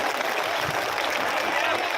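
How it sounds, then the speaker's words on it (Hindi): A crowd at an outdoor Madhya Pradesh election rally clapping steadily and densely throughout, a broad sustained wash of applause with no pauses. "आप सभी लोग हमारे बहन जी का ताली बजा करके एक साथ स्वागत करेंगे"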